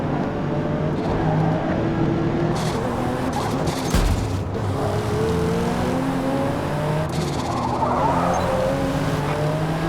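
Racing car engines in Forza Motorsport, including a Corvette, drone steadily and loudly throughout, with rising and falling engine pitch as cars run close together and no talk.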